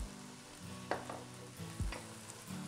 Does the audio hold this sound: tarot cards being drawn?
no